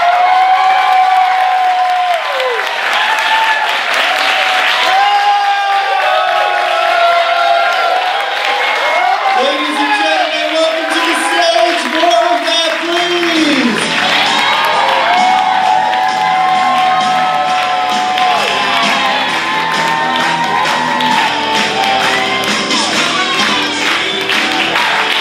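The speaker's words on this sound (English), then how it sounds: "let's start that applause right now" Audience at an improv grad show at The Pit applauds and cheers loudly and steadily, with whoops and shouts over dense clapping, while voices call out through the crowd noise.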